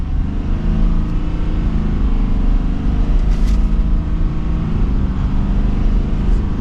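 A 2024 Ford F250 Super Duty Platinum pickup with the 6.7L engine accelerates from second gear in manual shift mode, its deep steady engine drone rising loudly from inside the cab.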